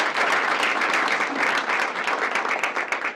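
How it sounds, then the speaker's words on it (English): A team meeting crowd applauds, loud, dense clapping from many hands filling the room continuously and evenly throughout. "let's give a round of applause to Sarah"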